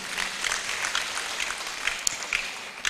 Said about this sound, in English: I think the Chief Justice deserves a round of applause.